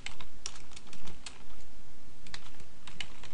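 Someone types an SQL query on a computer keyboard, giving rapid, irregular key clicks in quick bursts, close and crisp against a soft background hiss.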